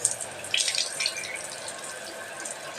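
Rice being rinsed under a running kitchen tap while tomato rice is being made, a steady splashing water stream with brief bursts of sloshing, moderately close and alone.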